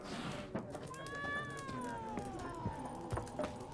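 A cat in The Witcher 3 gives one drawn-out, falling meow over quiet game ambience, with faint footsteps or thumps around it.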